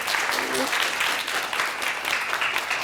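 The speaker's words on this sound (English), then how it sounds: "And now round of applause for yourselves for being here today." An audience at a women's empowerment conference session breaks into steady, dense applause that fills the whole stretch at an even level, with no pause or build.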